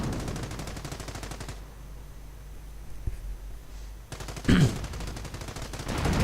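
World War II video game combat with bursts of rapid machine gun fire at the start and end, separated by a quieter stretch with a single sharp report and a swelling whoosh.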